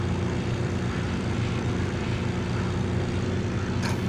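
A propeller fighter plane drones steadily overhead in the World War II shooter Forgotten Hope 2 at the Overloon battle, a loud continuous engine hum with no talk.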